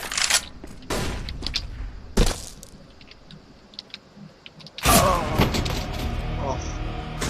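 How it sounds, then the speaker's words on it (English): Flashbang thrown in a shooter video game: sharp bursts and bangs with gunfire-like crackles, a loud blast near the end followed by ringing noise, with quiet gaps between hits. "Throwing a flashbang."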